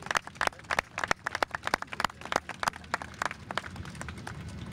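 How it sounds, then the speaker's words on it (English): A small outdoor crowd at an Arbor Day tree-planting ceremony claps by hand, a sharp, uneven patter of close individual claps that thins out over a few seconds. "Let's give them a round of applause."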